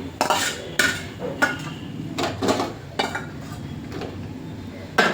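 Fried dry red chillies are lifted from a pan onto a plate, a series of metallic scrapes and clinks of a utensil against cookware at a steady uneven pace, close and clear.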